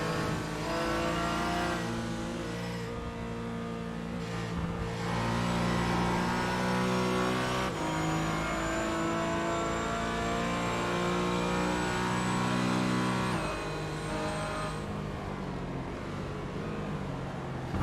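GT4 and TCR race cars run at Lime Rock, their engines revving and droning loudly as they accelerate past, with shifting pitch and no talking over the continuous roar.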